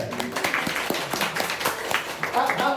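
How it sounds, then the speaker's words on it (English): Scattered clapping from a small group, moderately loud and uneven, with some voices mixed in. "A round of applause here."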